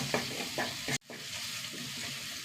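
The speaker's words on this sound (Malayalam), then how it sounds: "ഉള്ളി ഇഞ്ചിയൊക്കെ മൂത്ത് വന്നു കേട്ടോ" Onion, ginger, crushed garlic and curry leaves fry in a pan with a steady sizzle, interrupted by a few scraping stirs. The sizzle drops briefly, then carries on alone, close and moderately loud.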